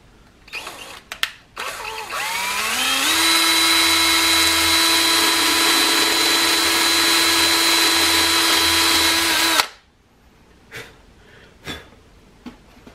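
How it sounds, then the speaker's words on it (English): A power drill bores small pilot holes in a camper switch box: a quick start-up whine climbs to a loud, steady high-pitched run for several seconds, then stops abruptly, with a few clicks and taps around it. "I just want to pre-drill a couple small holes through this so it'll start them easier."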